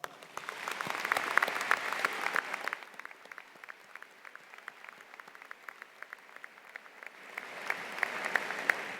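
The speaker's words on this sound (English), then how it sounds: "now would be a great time to give these teachers a warm round of applause" A commencement crowd gives a warm round of applause for retiring teachers at a high school graduation. The clapping swells, fades to a thinner patter midway, then builds again near the end.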